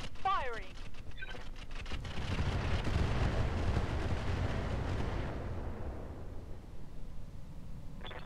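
Incendiary weapons fire in the Roguetech mech game, a heavy rumbling volley of explosions and crackling impacts that builds, holds for several seconds, then fades, with a voice speaking briefly at the start.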